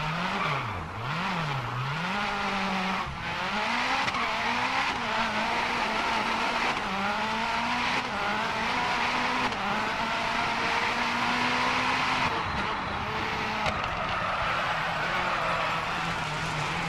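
A rally car in the DiRT Rally video game slides and skids, its engine whining and revving loudly as tires squeal through the turns, with occasional gear shifts over nearly seventeen seconds.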